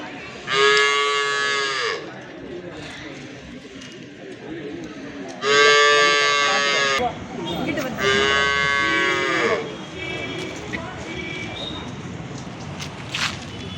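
Cattle moo loudly and close by in three long, drawn-out calls, with softer shuffling and background noise between them.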